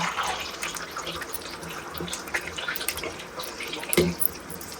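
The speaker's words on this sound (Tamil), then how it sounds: "தண்ணி கொஞ்சம் ஊத்து." Water poured into a cooking pot during a big outdoor non-veg meal for fifteen people: a steady splashing, gurgling pour with scattered clatter, fairly close, no clear speech over it.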